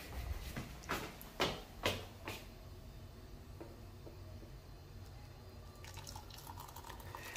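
Hot water pouring from a tap or kettle into a cup for tea, heard as a few short splashy bursts early on, then a steady faint trickle with later drips, fairly close and with no talk.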